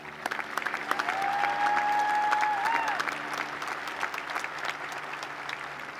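Graduation audience applauding veterans at a school ceremony, a steady broad wash of clapping that swells and holds for several seconds before easing slightly, with a faint tonal whistle riding above it.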